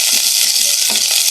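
Chayote being sautéed in a hot pan for a Filipino ginisang sayote, giving a steady, loud, close hiss of frying oil with faint stirring scrapes underneath and no voices.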